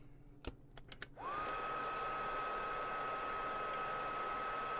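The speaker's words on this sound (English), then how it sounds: "To make it easier to get them on, I use a heat gun." A corded heat gun blowing hot air to soften rubber parts for a 1/8 scale Willys Jeep model kit. A few soft clicks come first, then the gun switches on into a steady, close, whining whoosh of air that holds to the end.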